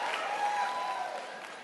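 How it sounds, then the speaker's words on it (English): Audience applause at a stand-up comedy show, a steady wash of clapping filling the whole moment at moderate level with no talk over it. "why y'all stop clapping?"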